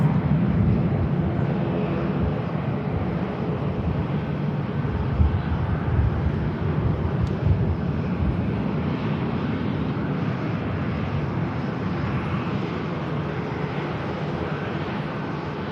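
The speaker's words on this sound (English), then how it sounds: "Positive climb, and the gear goes up." Jet airliner climbing out after takeoff at Manchester Airport, a broad continuous roar heard from a distance, steady and fairly loud with wind rumble on the microphone.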